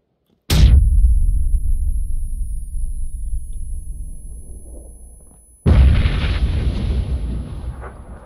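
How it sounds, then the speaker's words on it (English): A grenade explodes in a first-person video game, a sudden loud close blast that rumbles and slowly fades, followed by a second heavy boom about five seconds later. "got hit with a grenade"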